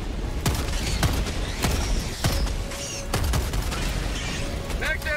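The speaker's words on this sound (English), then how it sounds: "Why does the orbital barrage always come so close to me?" Heavy orbital barrage explosions in Helldivers 2 hit nearby: repeated loud, sharp blasts arrive in an irregular run, with rumbling booms and crackling debris over constant battle noise.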